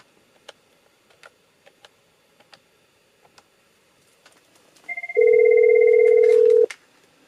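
A Cisco IP phone places a test call, with a series of soft keypress ticks followed by a steady loud dial or ringback tone held for about two seconds, then cut off.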